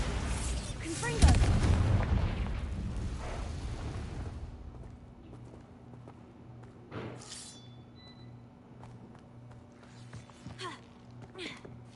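Confringo and Bombarda spells explode in the Hogwarts Legacy video game, with one loud, booming blast early on that rumbles away over several seconds, followed by fainter crackles, glassy clinks and a hum.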